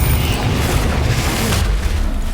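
Confringo fire spell explosion in the Hogwarts Legacy video game, a loud, dense booming blast with rumbling low end that fills the whole moment without a break, and no voice over it.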